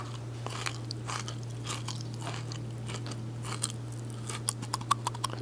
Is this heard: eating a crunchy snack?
yes